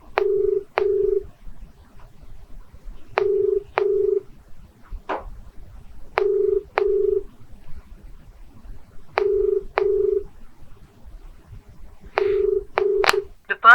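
A telephone call rings out unanswered, sounding as a repeating double-ring ringback tone in evenly spaced pairs, about five cycles, clear and close with no one answering.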